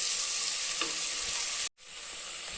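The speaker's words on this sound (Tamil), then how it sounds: "உப்பு போட்டோன்னா கொஞ்சம் எல்லாம் சீக்கிரமாக வதங்கும். நல்லா தக்காளி நல்லா வதக்கிக்கலாங்க." Tomatoes and onions sauté with salt in a pan for a radish gravy, giving a close, steady frying sizzle with a brief drop-out near the end.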